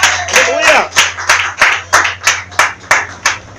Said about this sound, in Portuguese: Você pode aplaudir essa esperança?